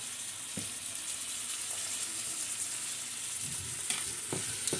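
A seasoned dish with garlic salt and seasoned salt being stirred in a pan, heard as a faint, steady frying hiss with a few soft scrapes of the spoon near the end.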